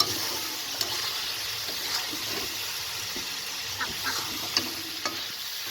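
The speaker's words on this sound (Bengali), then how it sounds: "লঙ্কা গুঁড়ো দেবো, ভাজবো।" Country chicken fries in a pan with chilli powder, a soft continuous sizzle with occasional stirring clicks and scrapes, close and moderately quiet.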